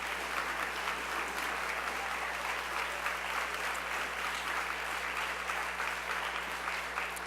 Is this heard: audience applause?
yes